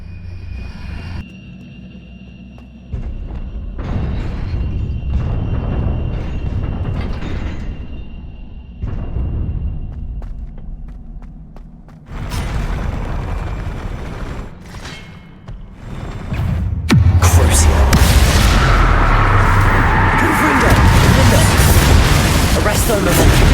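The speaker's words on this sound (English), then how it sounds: "That pillar is blocking the path. I'll need to move it." A stone pillar in Hogwarts Legacy is shifted by magic and crashes down, heavy rumbling thuds and booming impacts in bursts that build to a loud, dense crash near the end.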